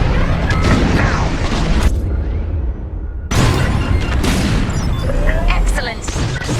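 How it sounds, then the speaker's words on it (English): Bombs exploding in the Star Wars Squadrons space combat game: loud, dense booms and blasts rolling almost continuously, with a brief lull before more explosions, under radio-style voices talking. "On my mark. It's bombs away."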